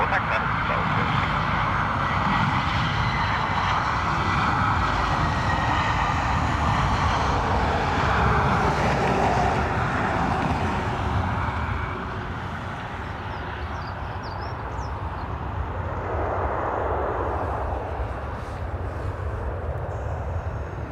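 A freighter-conversion airliner passes over Dublin Airport under cloud cover, its jet roar broad and sustained before easing off partway through, with voices talking over it.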